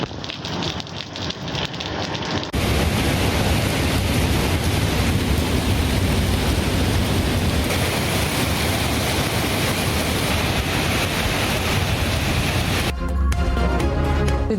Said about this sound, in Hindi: इस्लामाबाद के मुख्तलिफ इलाकों में तेज़ हवाओं के साथ बारिश।